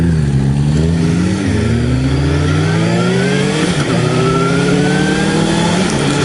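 A Suzuki GSX-S750 motorcycle with a slipper clutch revs loudly and close up after a downshift, its engine pitch climbing smoothly over steady wind roar.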